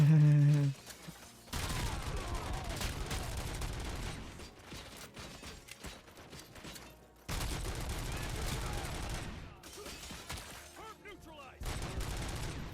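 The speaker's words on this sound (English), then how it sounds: "I was shooting at the wrong guy" Gunfire in the RoboCop video game: rapid bursts of automatic fire in long sustained stretches, broken by brief pauses, loud and dense over game ambience, with occasional voices.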